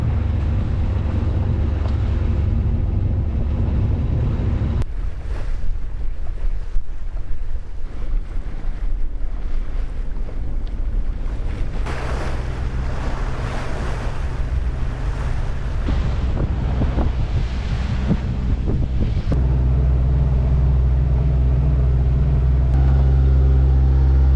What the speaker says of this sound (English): for now, we're just motoring out of here, out of this anchorage